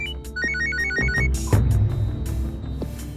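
A telephone rings in repeated short, bright trills with brief gaps between them over a low background hum.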